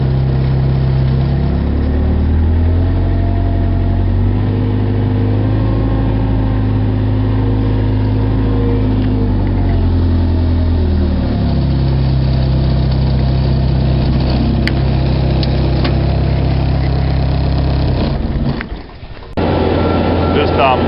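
A front end loader's diesel engine idles with a steady low rumble, close and loud, shifting in pitch midway through, with a brief dropout near the end.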